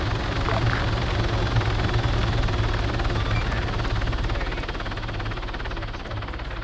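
Helicopter in the ArmA 3 video game, a loud, steady rotor thump and turbine whine close by, continuous and slightly fading toward the end, with no talk.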